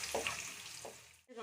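Quiet sizzling and a few stirring scrapes of onion and capsicum frying in a pan, brief and close, with no one talking.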